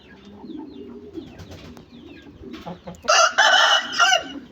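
Aseel rooster and hens in a yard, soft low clucking and murmuring followed by a loud, close crow-like call near the end, with no talking.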